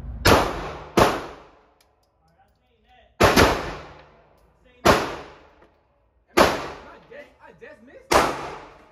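Six loud, sharp gunshots ring out at an outdoor shooting range, spaced irregularly over about nine seconds, each with a fading echo, with faint voices in the gaps between shots.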